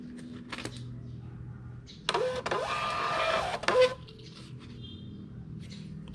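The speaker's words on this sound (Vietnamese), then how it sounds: "Đối với cái máy in Bluetooth đó, thì nó ra hơi chậm xíu nha các bạn" Bluetooth thermal label printer feeding out a shipping label, a steady mechanical whirring burst of about two seconds between quieter clicks and handling noises, close and alone.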